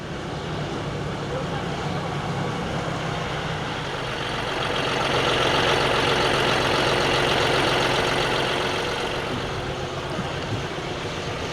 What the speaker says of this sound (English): Getting ready to go on our annual tractor ride